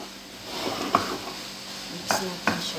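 Pasta and pesto stirred in a pan with a utensil, soft scraping and a few sharp clinks against the metal over low kitchen background noise.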